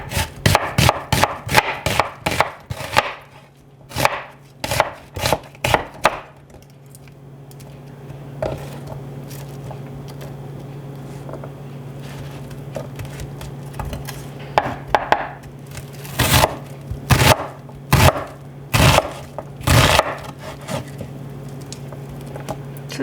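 A knife chops an onion on a cutting board in quick bursts of sharp, rhythmic taps, close and crisp, with a quieter pause in the middle before a second run of chopping.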